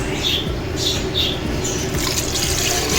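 Water runs steadily into a pot for chicken biryani, a continuous splashing pour with a bright hiss, close by and uninterrupted.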